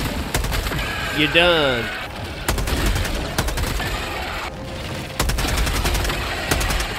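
Rapid gunfire from Helldivers 2, loud sharp bursts of shots in quick volleys across the clip, with a brief spoken remark and some game sounds between bursts.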